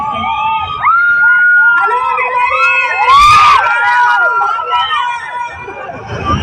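Crowd noise at a silk shop opening ceremony in Vanasthalipuram: loud, continuous babble with cheering and shouting voices, near and dense throughout, with people talking over it.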